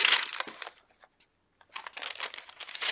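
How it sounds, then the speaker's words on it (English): Tracing paper sheets in a handmade celestial journal crinkle and rustle close by as they are handled, with a quiet pause in the middle before the crisp crinkling picks up again. "And this is tracing paper."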